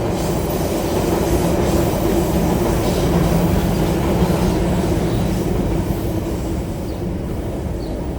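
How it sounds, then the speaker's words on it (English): A train rolls past close by with a loud continuous rumble and rattle of wheels on the rails, holding a steady level throughout with no talking. "See, right now, as a train passed by, I felt zero sense of frustration."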